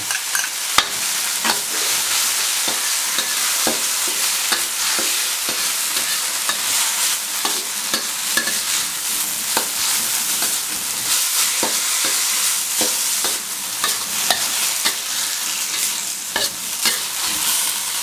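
Morning glory stir-fried in a pan with canned fish and oyster sauce gives a steady, close sizzle broken by frequent scraping stirs of the spatula, with no talking throughout.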